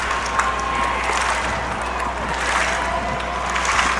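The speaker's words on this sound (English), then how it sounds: "Cowboy Kyle getting the possible strikeout clap going" Baseball crowd at a Savannah Bananas game clapping to urge a strikeout on an 0-2 count, a dense, steady wash of many hands and crowd noise from the stands, with voices mixed in.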